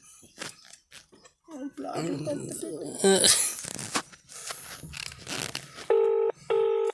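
Two short electronic tones near the end, like keypad presses on a phone, follow a stretch of talking and clattering.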